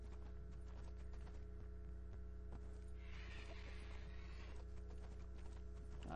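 A horse's hooves clip-clopping in the Western video game Six Guns, a soft, steady patter over a constant low hum of game background.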